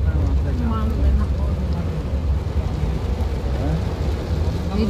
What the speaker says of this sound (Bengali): যে বৃষ্টি, ছাতা টাতা মানবে না